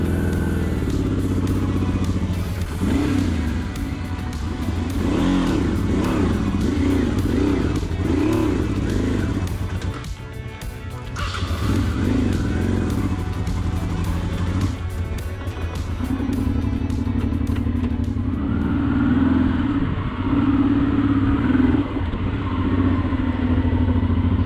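A Honda Transalp motorcycle on a dirt trail restarts after stalling, its engine revving loudly and chugging, dipping briefly, then pulling away under some talk.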